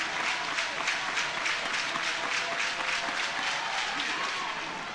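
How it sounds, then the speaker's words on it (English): A softball crowd of Sooners fans at the NCAA championship claps and cheers in a steady rhythmic patter for pitcher Sam Landry, moderately distant and continuous, with a commentator faintly under it. "The Sooners crowd getting behind Sam Landry."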